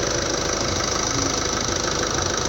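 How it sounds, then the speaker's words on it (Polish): A Ford 1.5 diesel engine idles with a freshly replaced timing belt, rollers and tensioner, giving a steady, close, loud clatter with an even rhythm throughout and no talking. "Proszę bardzo, jak silniczek ładnie pracuje."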